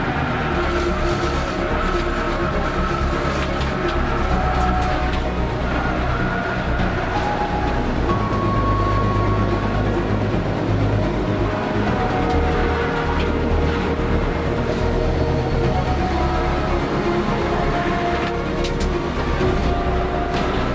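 Race cars, including an Audi TT 225, run on a circuit during a club race weekend, producing a loud, continuous engine drone with shifting pitch and a faint tire squeal, no talk.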